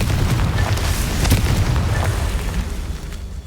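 Confringo, an explosive fire spell in the game Hogwarts Legacy, goes off with a deep rumbling boom and crackling bursts that roll on continuously before slowly fading.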